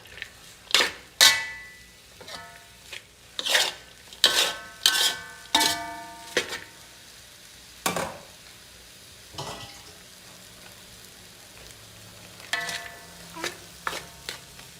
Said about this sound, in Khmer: ឥឡូវយើងកូរវាតិចតិចសិនណាបងប្អូន